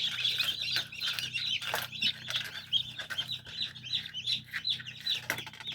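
Newly hatched crested chicks peep continuously in dense, high overlapping chirps, close and lively throughout, over a low steady hum from an incubator.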